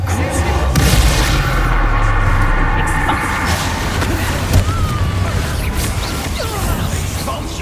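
A Reducto spell blast in the Hogwarts Legacy video game, a loud sustained booming rumble of destruction amid dense, continuous battle noise.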